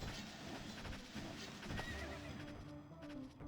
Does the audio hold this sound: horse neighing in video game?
yes